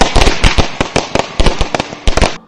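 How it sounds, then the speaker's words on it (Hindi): Firecrackers burst on Diwali night in a city, a rapid irregular string of loud close cracks and pops with short gaps between volleys. "शहर में पटाखों की आवाज़ें गूंज रही थी।"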